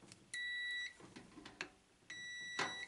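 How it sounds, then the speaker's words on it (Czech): A multimeter set to continuity gives two sustained electronic beeps while testing a large 8 A fuse inside a microwave oven, each tone lasting about half a second, close and clear with light handling noises between. "Mám tady multimetr nastavený na pípák"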